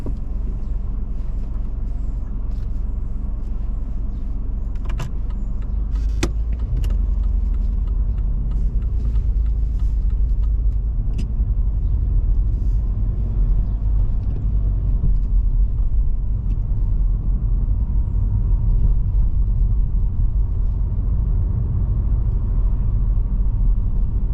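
A car pulls away during a driving test, heard from inside as a steady, loud low engine and road rumble with a few light clicks early on and no talk.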